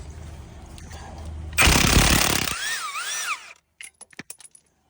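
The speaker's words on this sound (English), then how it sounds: "So I'm going to be using my impact driver to take it off." A cordless impact driver rattles loose the 21 mm crankshaft bolt on a 2013 Mazda 3, one loud hammering burst of about two seconds, then a whirring spin-down with a rising whine, followed by a few light metallic clinks.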